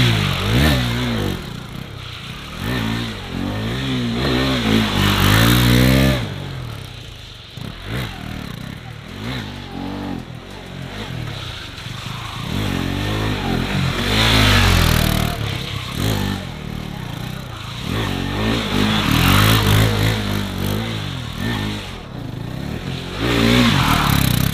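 A KTM RC 390 motorcycle revving hard during stunt riding and drift attempts on grippy tires, with the engine rising and falling in loud repeated surges and some clattering and scraping, close by and without talk.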